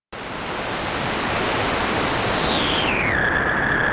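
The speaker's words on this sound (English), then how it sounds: "Now this is the white noise with distortion," Loud, continuous white noise hiss from an Erica Black modular synthesizer with drive distortion, gritty edge; a filter sweeps downward partway through, darkening the tone as it holds steady.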